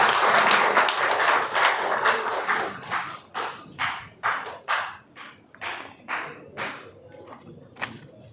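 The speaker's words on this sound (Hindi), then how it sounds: "तो आप लोग जोरदार तालियों से स्वागत कीजिए।" An audience at a trade union federation meeting in India claps loudly at first, then the applause thins into scattered, evenly spaced claps before fading out.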